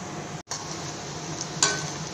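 Garlic frying in oil in a pan for a gongura rice dish gives a steady, close sizzle throughout, broken by a brief gap and one sharp clink of a utensil near the end.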